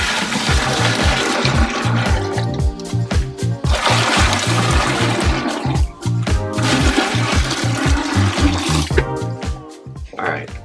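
Water pours steadily and loudly into bags for mixing powdered pottery glaze, a continuous rushing, gurgling flow that runs for the full stretch with a few brief dips.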